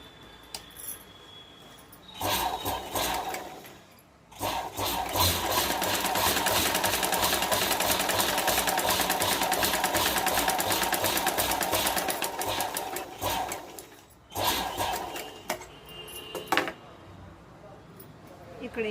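Sewing machine stitching the lining into a small homemade purse, a close, rapid mechanical whirring and clatter in two long bursts with short pauses between.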